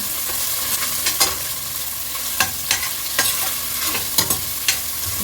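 Garlic is stirred as it fries in a pan for a sautéed vegetable dish. A steady close sizzle runs throughout, with repeated scraping strokes of the stirring utensil at an uneven rhythm and no talking.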